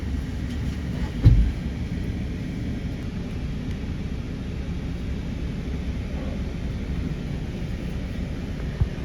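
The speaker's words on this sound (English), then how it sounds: "That's what those trains sound like" A train passing near the Grand Canyon, a steady low rumble that holds evenly for the whole stretch with one brief thump early on and no voices.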